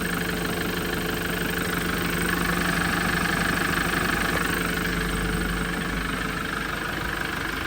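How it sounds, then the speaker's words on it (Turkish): Yanmar 4LV250 diesel boat engine on a Sancak 9.20 running steadily after its 250-hour maintenance, a loud, even idle with a constant knocking drone and no talk. "Motor saat gibi."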